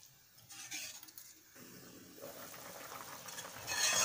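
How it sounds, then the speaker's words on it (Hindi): Coconut milk curry with bhindi coming to a boil in a pan, faint bubbling and liquid burbling that builds toward the end, with a few soft utensil clinks and no talking. "अब ये देखिए उबाल आ गई अच्छे से।"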